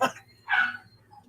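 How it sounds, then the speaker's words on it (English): A dog yips in the background, with a sharp cry at the start, a louder high yelp midway and a fainter whine at the end. "I just wish I didn't have the yiping dog in the background."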